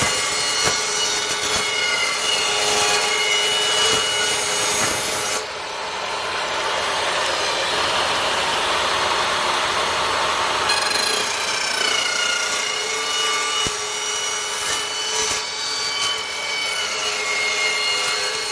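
Cold saw cutting steel, first dry and then with saw wax: a loud continuous harsh grinding screech that shifts in tone partway through, the second cut smoother with ringing whines, no voices.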